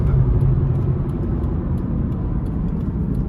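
A 2014 Subaru Impreza WRX cruises at an easy pace, its engine a steady, low cabin drone mixed with road rumble that holds a constant level throughout, with no talking.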